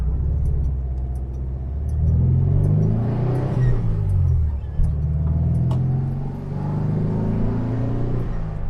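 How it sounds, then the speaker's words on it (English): A Volkswagen Type 3 1600 Fastback with a slightly sporty exhaust drives along, its low throaty engine note rising and falling through gear changes, steady and close with no talk. "This one does have a slightly sporty exhaust on it, but it's not too overbearing."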